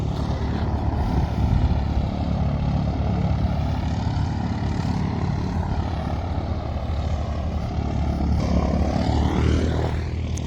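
A propeller airplane drones steadily at a pilot training center, a loud, continuous engine roar with a rising whine near the end.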